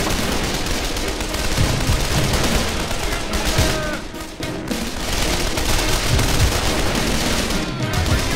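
Machine gun fire in the war game Men of War: Condemned Heroes, a dense, continuous rattle of automatic bursts, loud and close, with scattered heavier bangs mixed into the battle noise.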